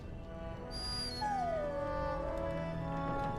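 A dog in the Dragon Age Origins video game whimpers and yips in a high, wavering, falling whine, close and clear over a soft steady background, in one drawn-out plaintive cry; no talk.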